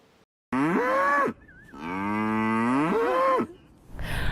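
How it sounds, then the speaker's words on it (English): Dairy cattle at a university farm facility moo loudly and close by, two long drawn-out calls in succession with a brief pause between them. "Over 300 cows reside here, but behind me is probably only about 35"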